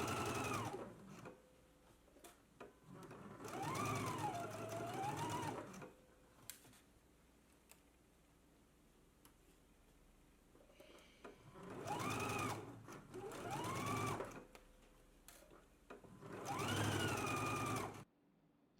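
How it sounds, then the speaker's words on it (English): A sewing machine stitches a sleeve seam at a 5/8 inch seam allowance on a McCall's M8530 garment. It runs in three separate whirring bursts of a few seconds each, with quiet pauses between them. "then we can stitch it at a 5/8 of an inch seam allowance."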